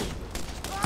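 Gunfire from a deployed Scorpio turret in the Borderlands video game, a brief burst of rapid shots, loud and close, under faint background game noise.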